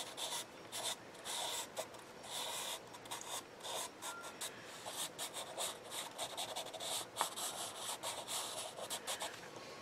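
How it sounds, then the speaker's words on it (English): A Derwent pastel pencil scratches and rubs steadily across paper, close and continuous, with fine gritty strokes adding sketchy details to a mixed-media figure drawing. "I'm just going to put her dress in here, doing it with a Derwent pastel pencil"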